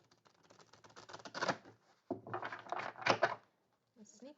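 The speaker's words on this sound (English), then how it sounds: "Okay, apparently I'm not done shuffling yet." A deck of tarot cards being shuffled close by in two riffling bursts, papery flutters and slaps, with a brief voice at the end.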